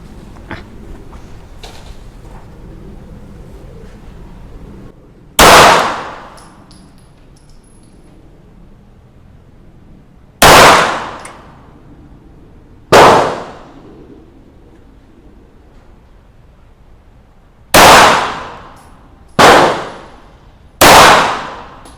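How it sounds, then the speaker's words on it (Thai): Gunshots fired at a target 10 meters away with the same box of ammunition, six sharp loud reports spaced irregularly over about sixteen seconds, each ringing off quickly into a quiet outdoor background. "อ่ะคราวนี้ดูจันเบียยิงบ้างนะครับกระสุน กล่องเดียวกันแบบเดิมระยะ 10 เมตรเท่ากัน"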